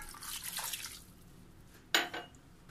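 A glass of water is poured into a pan of layered mutton rosh, a Balochistan dish with salt and garlic cloves, making a short splashing burst near the end after quieter kitchen rustling.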